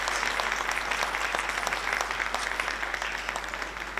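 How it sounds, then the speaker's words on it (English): Audience applause at an awards night, a dense, steady wash of many hands clapping that stays loud and even for about four seconds, with no voices over it. "Let's just give round of applause to all the performers tonight."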